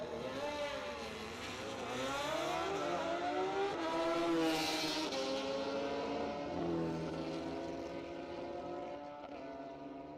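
A Street ET drag racing car at a drag strip making its time run, its engine note rising and sweeping past in long pitch glides, distant and building then fading.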